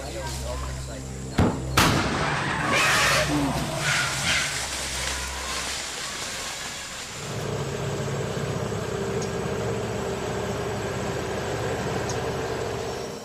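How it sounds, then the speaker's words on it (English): A sharp, loud blast from a homemade cannon used to scare off elephants rings out early, followed by rumbling and a steady low mechanical drone that continues to the end. "have ways to scare off the elephants with homemade cannons."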